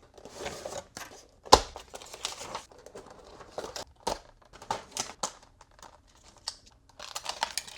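Plastic and cardboard packaging of a Mezco One12 Samurai Jack action figure crinkles and tears up close, with intermittent rustles, snaps and pauses as it is unboxed.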